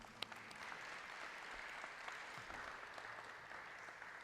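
A graduation crowd applauds the graduates, an even, sustained wash of clapping heard from a distance and quite faint, steady throughout with a few sharper claps near the start.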